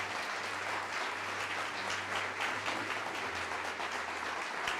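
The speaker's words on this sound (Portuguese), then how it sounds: "vamos aplaudir mais ao nome de Jesus." Church congregation applauding in the name of Jesus during a worship service, a continuous even roar of many people clapping that fills the room, with a low sustained hum beneath it and no voices on top.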